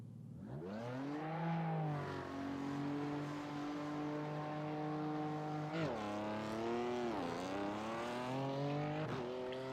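A BMW M4 GT3 race car in the iRacing sim at Silverstone, its engine rising steadily through the revs with sharp gear shifts near six and nine seconds, loud and continuous.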